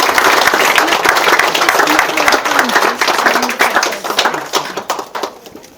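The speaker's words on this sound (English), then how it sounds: "so please give these guys a round of applause." Wedding guests break into a loud, dense round of hand clapping at the speeches, the applause holding steady before thinning into scattered claps toward the end, with faint voices beneath.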